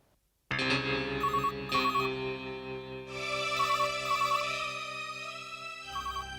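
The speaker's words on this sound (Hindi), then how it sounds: "दुर्गा, दुर्गा फोन देखो ना" A mobile phone ringtone plays loudly and continuously at close range, a bright repeating melody with no speech over it.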